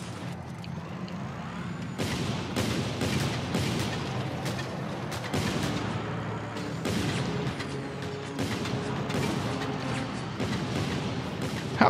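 Repeated booming gunfire and explosions from a Just Cause 2 battle in which an armored helicopter takes shotgun fire, dense and loud throughout with sharp bursts recurring every second or so.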